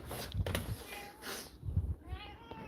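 A house cat meows several times in short, close, fairly loud calls spaced irregularly, with quiet room ambience between them.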